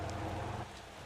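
Rain falls during a night drive on a mountain trail in the game Motor Town, a steady soft hiss with low rumble beneath, faint and unbroken.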